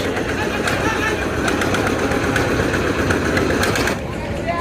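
Passenger launch Parabat 18 runs its engine in reverse gear at slow speed in rainy weather, a loud, steady low rumble throughout with someone talking over it.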